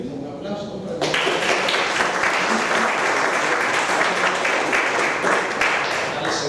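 Audience applause at a book presentation bursts in after about a second of quieter room sound, then continues as dense, steady clapping from many hands to the end.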